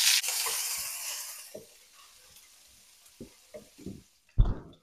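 Garlic, onion and chili hitting a hot wok, a bright hiss of sizzling oil that fades over the first two seconds, then scattered clacks of stirring and a sharp clatter near the end, close and moderately loud.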